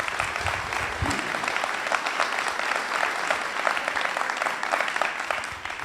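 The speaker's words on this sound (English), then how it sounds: "so give them a round of applause, please." A forum audience applauds the Sarasota Orchestra, a full, lively round of many clapping hands that stays strong and steady from start to finish.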